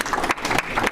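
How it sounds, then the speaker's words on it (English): Brief burst of audience clapping at a Rotary club meeting, a dense patter of many hands heard close and loud for under a second. "Round of applause for everyone."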